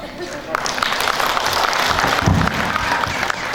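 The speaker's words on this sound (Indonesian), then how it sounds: "Terima kasih yang tepuk tangan." Audience applause at a political party's 48th anniversary celebration: steady clapping from a seated crowd, moderately loud and continuous for several seconds, with a voice speaking over it.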